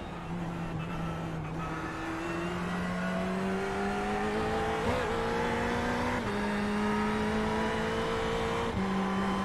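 Ferrari GT3 race car engine in the iRacing sim at Bathurst: a steady high-pitched engine whine climbing through the gears, with clean upshift steps and a sustained rising tone, heard alone without talking.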